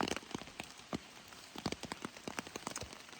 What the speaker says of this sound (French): mais il pleut énormément.